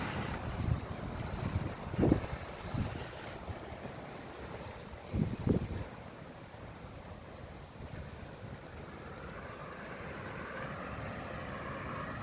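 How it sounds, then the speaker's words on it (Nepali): Wind blows through a park in Korea, with a few strong gusts buffeting the microphone early on before settling into a softer, steady rushing. "हावा चलिरहेको छ आज"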